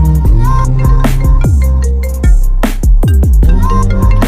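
A mobile phone ringtone plays loudly and continuously in a short film scene, a bright repeating melodic tune with punchy bass notes, with no talking over it.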